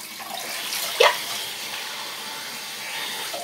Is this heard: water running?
yes